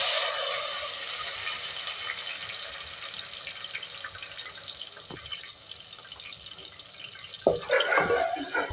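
Ground onion frying in oil in a pan while cooking chana salan, a steady close sizzle with faint crackles and a brief stir or clatter near the end.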